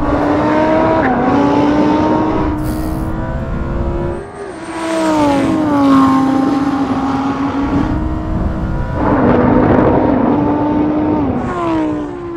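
A Lamborghini Huracan, Audi R8 and Nissan GT-R drag race down a standing quarter mile, loud engines roaring and revving continuously, with pitch climbing through gears and dropping at each shift, close and dominant throughout with no talk.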